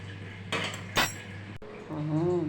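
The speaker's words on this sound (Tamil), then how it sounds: "இப்போ தான் அந்த மூடியை கூட எடுக்கிறேன்" A metal lid lifted off a puttu steamer after steaming wheat puttu, giving a couple of short metallic clinks and a scrape, close and fairly loud, followed by a brief voice.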